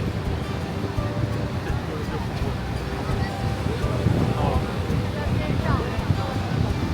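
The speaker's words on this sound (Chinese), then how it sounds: "我们正对面最宽的就是马蹄瀑布。" Horseshoe Falls at Niagara Falls sends up a steady, loud, broadband roar of falling water that fills the whole stretch without a break.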